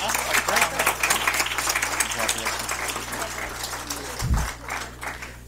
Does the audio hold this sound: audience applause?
yes